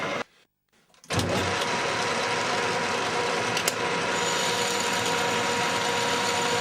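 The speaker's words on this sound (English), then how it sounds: "here I'm machining the fillet valley, which will form the pneumatic piston of the cylinder" A lathe cuts a fillet valley into a pneumatic piston for a cylinder, giving off a steady, close mechanical hum and whine with a constant cutting hiss. The sound begins after about a second of near silence and runs unbroken to the end.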